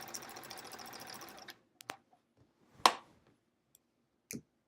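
A sewing machine quilting stitch in the ditch on a Splendid Sampler quilt runs in a fast, steady mechanical whir, then stops, leaving a few scattered clicks and knocks.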